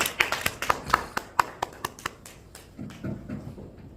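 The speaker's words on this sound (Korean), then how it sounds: "박수로 감사합니다." A congregation at a Korean prayer meeting applauds with a scattered run of sharp, distinct hand claps that thin out and fade. Faint voices murmur underneath as the clapping dies away.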